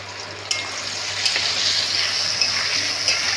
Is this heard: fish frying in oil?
yes